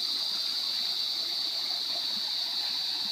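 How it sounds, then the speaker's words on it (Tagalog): A farm-lot creek (sapa) in Magdalena, Laguna runs steadily, with a constant rushing, gushing flow nearby and no voices. "Running water mga kaprops yung sapa niya."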